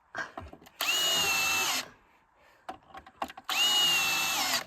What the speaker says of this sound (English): Make sure you don't put your finger on this side of the board when you're drilling this